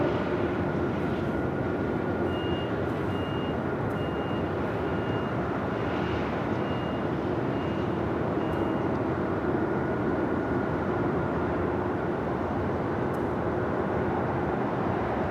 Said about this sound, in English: Next takeoff here on the south side is American Airlines Flight 307, a flight heading to JFK